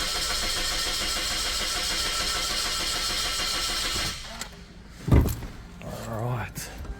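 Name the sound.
Suzuki Swift engine cranking and starting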